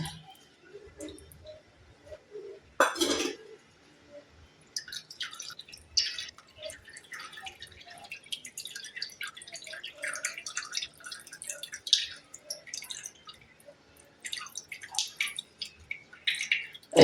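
Tamarind soaked in hot water is strained through a sieve into a dish, giving faint scattered drips and small trickles with a brief louder splash early on, in a quiet kitchen.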